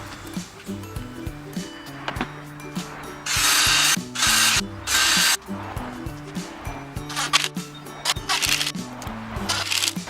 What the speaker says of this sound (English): Next, we'll want to affix the backing plate with some wood glue and screws.